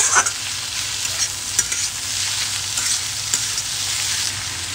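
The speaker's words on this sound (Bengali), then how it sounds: "30 সেকেন্ড 40 সেকেন্ড এটা আমি গ্যাসের হাই ফ্লেম দিয়ে আমি ভেজে নেব" Chicken noodle ingredients are stir-fried on a high gas flame, a loud, continuous close sizzle with occasional clinks and scrapes of stirring, and no voices.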